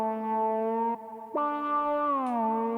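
A layered lead one-shot from a beat plays a bright synth melody of sustained tones, dipping briefly before a pitch jump and then sliding down near the end, with a soft echo tail, alone and without talk.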